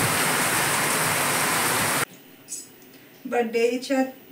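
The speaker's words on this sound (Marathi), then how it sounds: "आज भरपूरच पाऊस पडतोय" Heavy monsoon rain pours in a dense, loud wash for about two seconds, then cuts off abruptly and a person starts talking.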